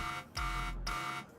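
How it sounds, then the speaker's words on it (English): Warning alarm from the video game Limbus Company: two electronic buzzing tones, each a harsh sustained blare, the second following after a brief gap. "that's the Deviat warning sound"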